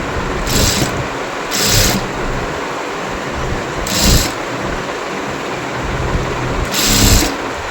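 A sewing machine stitches a sleeve onto a one-piece dress in short bursts of rapid, close mechanical whirring, four runs separated by pauses with a low background hum between them.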